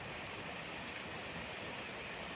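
Rain falls steadily in March, with sunshine out at the same time, making a dense, continuous hiss with a few brighter patters, heard alone with no talking.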